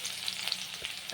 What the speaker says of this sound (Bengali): রসুন কুচি দিয়ে দিলাম,